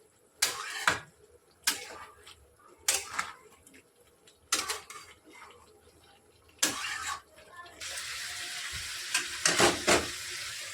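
Mutton curry with chili powder stirred and fried in a pan; a spatula scrapes at a steady, repeated rhythm over a constant close sizzle.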